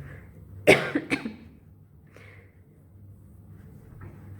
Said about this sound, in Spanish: ya sé, tenía que toser acá